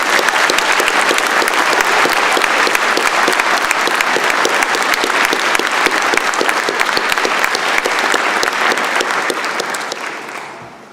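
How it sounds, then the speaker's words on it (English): Loud, dense applause at a spring convocation morning ceremony as the audience rises to honor graduates, many hands clapping steadily for about ten seconds before fading out. "Graduates, a round of applause."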